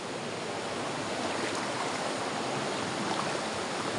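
River stream rushing over slippery rocks, a steady, dense wash of flowing water close by with no talking.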